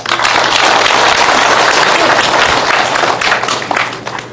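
Audience at a lecture hall welcomes a guest with loud, steady applause that holds for several seconds before tapering off near the end.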